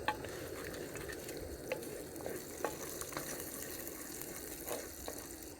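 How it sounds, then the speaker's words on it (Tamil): Mustard seeds splutter in hot oil for a prawn dish, a faint steady sizzle broken by scattered small pops and crackles. "கடுகு நல்லா பொரிய ஆரம்பிச்சிச்சு."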